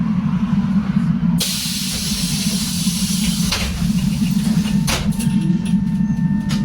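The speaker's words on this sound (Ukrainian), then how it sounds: "Обережно. Двері зачиняються." A loud pneumatic hiss of trolleybus doors closing over a steady low motor rumble, with a couple of clunks as the doors shut, in Kharkiv.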